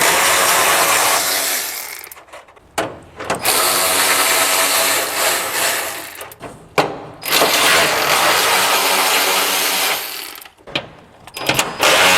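Power tool removing the four bolts that hold the old radiator in a 1967 Ford F100, loud close rattling bursts of impact driving broken by brief pauses, with no talking.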